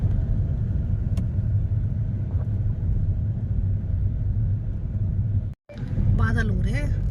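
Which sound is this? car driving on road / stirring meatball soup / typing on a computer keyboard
car driving on road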